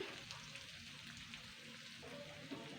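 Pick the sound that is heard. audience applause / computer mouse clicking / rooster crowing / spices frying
spices frying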